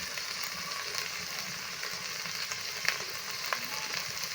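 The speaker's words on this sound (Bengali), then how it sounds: "দিয়ে এইভাবে মশলার সঙ্গে ভালো করে আবার একটু কষে নেব" Spices sauté in a hot pan for a thin, village-style snakehead (shol) fish curry with potato and lentil dumplings, giving a steady close sizzle with faint stirring clicks.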